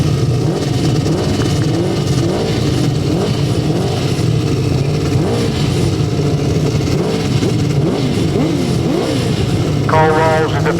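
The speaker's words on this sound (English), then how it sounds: "Where we go then with the second heat of 500 sidecars." 500cc sidecar motorcycles racing a grasstrack heat, with loud continuous engine roar and repeated revving swells as machines pass, layered over one another at close to middle distance.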